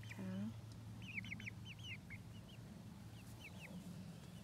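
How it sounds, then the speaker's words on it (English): Young chicks give several high, thin peeps and chirps in quick bursts, close by and fairly faint, over a steady low hum, with a short voiced sound at the very start. "Where you get all this chicken, Rose?"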